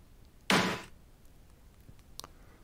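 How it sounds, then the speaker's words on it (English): A generic snare drum sample plays once in Sonic Pi, a single sharp, close hit with a short noisy decay, followed by faint ticks and quiet background. "There are snare drums, SN, snare drums, a generic snare drum."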